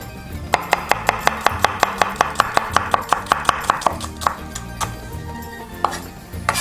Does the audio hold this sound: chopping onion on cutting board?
yes